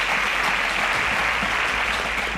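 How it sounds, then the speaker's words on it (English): A studio audience on a Nigerian school quiz show gives contestants a round of applause, a steady, even wash of many hands clapping throughout. "A round of applause for them."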